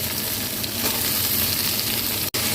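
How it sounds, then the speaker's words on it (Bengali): Sweet potato and ordinary potato pieces fry in a pan with cumin, a dense continuous sizzle with stirring, loud and close, with one brief drop-out near the end. "এবার এই রাঙা আলু আর এমনি আলু ভাজা হয়ে গেছে"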